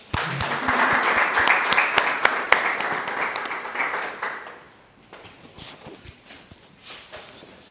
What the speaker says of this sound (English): A round of applause for Ahmed.